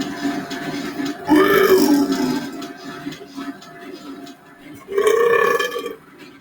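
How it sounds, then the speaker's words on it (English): Loud belching from a person playing Quake on Nightmare mode: two long, deep, drawn-out burps close to the microphone, separated by a stretch of background game noise. "Well, are you going to burp"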